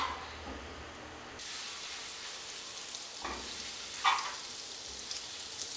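Butter melts in a hot pan with a soft, steady sizzle and hiss, swelling into a brighter crackle partway through before settling back to a gentle fry.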